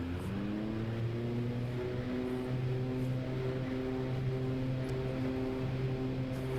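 A Bronco aircraft engine at full power on the runway for takeoff, heard as a steady droning hum with sustained tones rising slightly in pitch, fairly faint and even throughout, with no voices.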